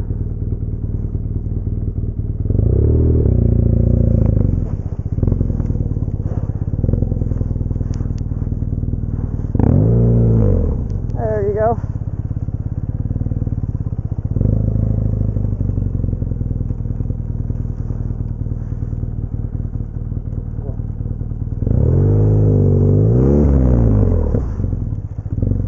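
Dirt bike engine running after being pulled out of deep mud, a loud close idle with several sharp revs and bursts of throttle over about twenty-five seconds, with some clatter.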